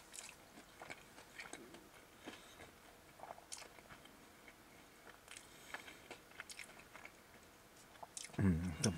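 Someone chews a whole-garlic meat pizza from Pizza Dano, topped with sausage, bacon and small pieces of ham. Soft, faint bites and crunches come at uneven intervals, with a louder burst of chewing near the end.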